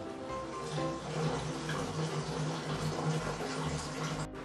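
Tap water runs and splashes over rice being washed in a home kitchen, a continuous close rushing stream with a faint tonal hum underneath.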